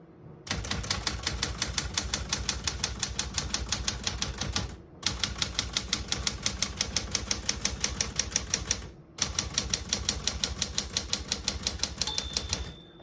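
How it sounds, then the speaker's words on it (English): Rapid, steady clacking of a Smith-Corona Galaxie Deluxe portable manual typewriter in three bursts separated by brief pauses, with a single margin bell ding near the end. "Once you hear the bell, you're at the end of the margin."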